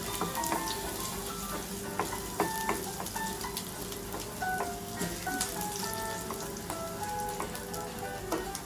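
Garlic sizzles in a hot frying pan with dense crackling and popping, steady and close throughout, and occasional stirring taps from a utensil.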